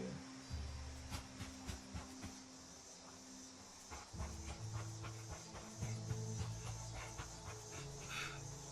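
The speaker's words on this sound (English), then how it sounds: "That's a wild dog." Wild dogs in Fallout 76 pant and whimper at low level under game music and ambient drone, with scattered footsteps and faint barks.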